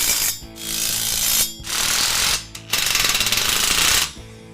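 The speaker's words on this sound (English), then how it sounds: "We're going to get our 3/4 inch socket, our 3/4 inch wrench," A 3/4 inch ratchet socket wrench tightens the pivot joint bolts on a Black Boar manual ATV/UTV implement lift, with three bursts of rapid, loud, close metallic clicking separated by short pauses and no talking.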